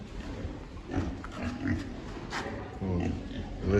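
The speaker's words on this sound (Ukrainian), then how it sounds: "Тут самі свинки." Pigs of Danish genetics grunt and snuffle close by in a steady low chorus, with a few louder grunts standing out over the muffled pen noise.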